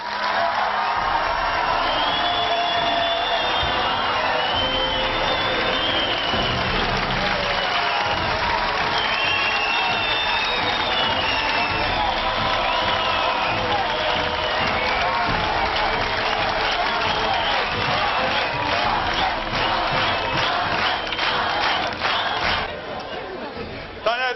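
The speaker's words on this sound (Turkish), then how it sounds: "Alkışlarınızla Taner geliyor." A studio audience at the semi-final of the 2011 Survivor competition show applauds and cheers continuously, a dense wash of clapping and shouts holding steady for the whole stretch before easing slightly at the end.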